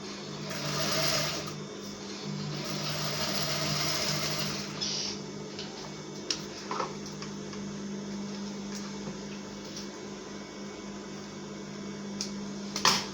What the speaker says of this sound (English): you make sure that you sew it as close as possible to meet where the sewing started